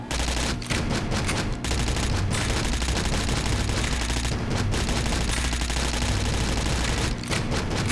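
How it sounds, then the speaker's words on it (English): SMG gunfire in the sci-fi shooter game Astroswarm rattles out in loud rapid bursts, firing almost continuously with only brief pauses between strings of shots. "Yeah, the SMG is pretty weak."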